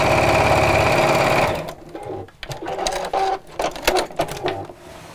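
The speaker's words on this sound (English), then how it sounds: "While I'm sewing" A sewing machine stitches in a fast, steady whirring run for about a second and a half, then stops, followed by lighter clicks and handling noises from the machine and fabric.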